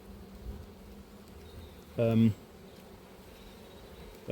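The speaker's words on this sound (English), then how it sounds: "my experience of these Caucasian bees is that they are" Caucasian honey bees hum softly in the background, with one loud, close buzzing burst passing briefly and another starting at the very end.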